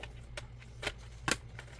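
Scissors snip and crunch through the plastic packaging of a small marker set in a few sharp, close cuts with quiet gaps between them.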